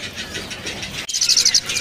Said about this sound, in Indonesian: Di kios ini ada burung jala kebo ya.